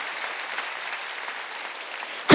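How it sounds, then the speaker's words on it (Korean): A church congregation at a Sunday service claps hard and fast, a dense, loud burst of many hands that holds steady for about two seconds before a voice cuts in at the end. "박수 세게 치시라요, 진짜."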